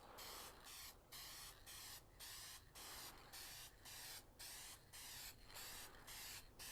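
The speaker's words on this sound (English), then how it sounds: "She's spitting every time I press the nozzle" A spray paint can spits and hisses from its nozzle in a garage, in short repeated bursts broken by brief gaps, close and fairly quiet.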